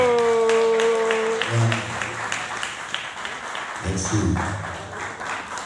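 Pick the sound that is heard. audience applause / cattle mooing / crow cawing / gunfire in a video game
audience applause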